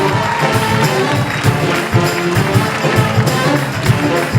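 A live comedy club audience in Bellingham greets a comedian with loud, sustained applause and cheering, a dense crowd roar of clapping running steadily throughout without any talk.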